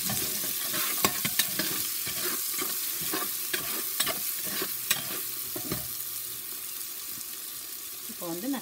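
Cumin and turmeric powder hiss and fry in a pan as a spoon stirs and taps against it in irregular strokes, with a steady sizzle beneath and a trickle of water.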